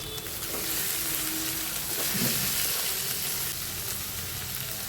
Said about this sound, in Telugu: ఈ తోటకూరని నిదానంగా సిమ్లో మగ్గించుకోవాలండి.